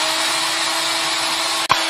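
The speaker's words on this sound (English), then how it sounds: "This tail is a little bit tough, so I'm going to drill a hole into it." A power drill whirs steadily as it bores a hole into a tough tail. The tool noise is loud and constant, with a brief click near the end and no voices.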